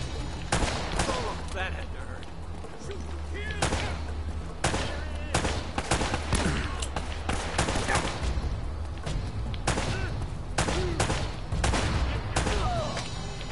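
Gunfire in the Uncharted: Drake's Fortune video game as a barrel is shot, rapid bursts of sharp shots and a few booms scattered throughout, with someone talking briefly between them.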